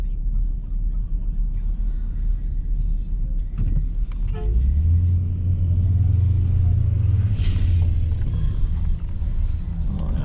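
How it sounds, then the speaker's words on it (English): Cars drive along a road, heard as a constant low rumble from inside a vehicle, with a deeper engine swell building and fading in the second half. Someone talks briefly. "These cars acting like they don't know how to damn drive."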